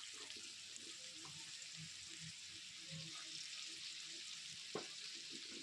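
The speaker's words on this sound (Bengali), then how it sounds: "এখানে আমি এই সবজিগুলো সব ভেজে নেব প্রথমে আমি এর মধ্যে দিয়ে দিয়েছি আলু এবার দিয়ে দিচ্ছি গাজর" Potato and carrot pieces fry in oil in a pan for a vegetable biryani, giving a steady, faint broadband sizzle with occasional soft clinks and stirring knocks, no talking.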